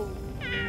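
A short, high meow from a toy kitten in a pretend vet-visit play scene, a single rising call over a low background hum.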